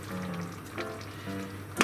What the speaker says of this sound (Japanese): 弱火にして、ここにサバ缶入れていきます。